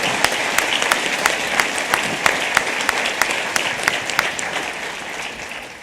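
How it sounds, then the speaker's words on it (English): Sustained round of applause from an annual general meeting audience, dense steady clapping with sharp individual claps standing out, fairly loud and close, slowly tapering toward the end. "I'd like to extend another round of applause for all these individuals"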